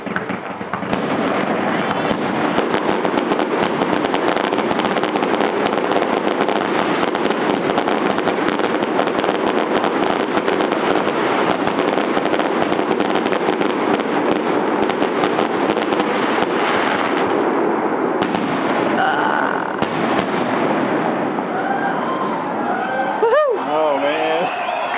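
Fireworks explode over Airlie Beach in a dense, continuous barrage of crackling and popping that fills the air for the whole stretch, thinning slightly near the end, with one sharper burst close to the finish.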